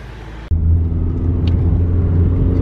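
A Nissan Silvia S15 engine idles slightly high when cold, with a steady low, even rumble and hum, close by; a brief quieter stretch at the start before the engine sound settles.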